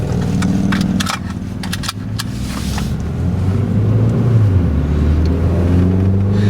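A Ford vehicle drives along a rural farm road with a steady engine drone and road rumble, the engine note rising and shifting as it gets under way, accompanied by some rattling and clunks near the start.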